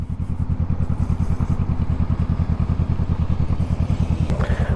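Honda Rebel 500 motorcycle backing out, its engine idling close by with a steady, rapid thumping pulse that holds throughout and ends with a brief clatter.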